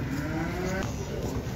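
Cattle at a livestock market in Karakol give a long, low moo, loud and close, over a busy murmur of the market.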